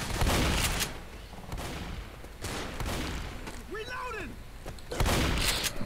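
Video game gunfire, several sharp bursts and booming shots spaced across a few seconds amid a busy game soundscape with a brief rising-falling tonal effect in the middle.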